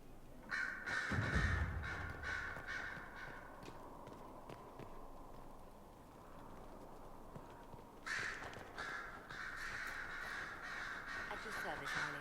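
Crows caw repeatedly in the Dragon Age: Inquisition game world, a cluster of harsh calls early on and another burst after a pause, with soft game ambience and footsteps underneath.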